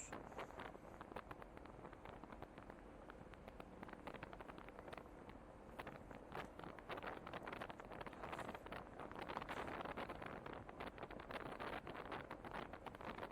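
Steady wind buffets the microphone while riding an Astrea Prima motorbike on a touring trip along the Pantura and Daendels roads, a constant rushing roar with no talk.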